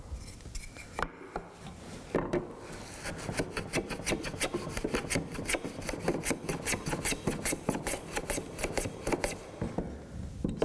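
A hand plane slices end grain shavings from wood on a shooting board, a series of rapid, rhythmic rasping strokes repeating close up, fairly quiet, with no talking.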